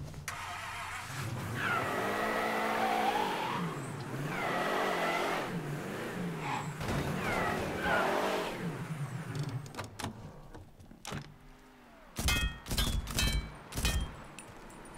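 Police car engine in the Mafia 3 video game, revving and accelerating repeatedly with rising and falling pitch, close and loud, followed by a few sharp knocks and bangs near the end.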